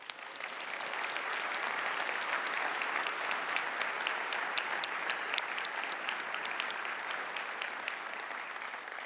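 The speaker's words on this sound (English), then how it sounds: "Please give yourselves a huge round of applause." A large conference audience gives sustained, even applause, a dense wash of many hands clapping at a fairly distant, moderate level with no talk over it.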